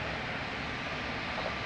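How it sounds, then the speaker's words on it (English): A LATAM Boeing 777 airliner at Lisbon Airport gives off a steady, broadband jet engine roar that holds even and continuous throughout, with no voices over it. "Beautiful Latam 777."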